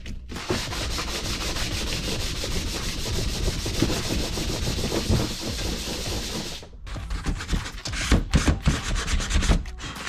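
Car brake pads from a BMW E46 being rubbed flat on an abrasive surface, a loud, close, steady rasping scrub that turns into choppier, uneven strokes near the end.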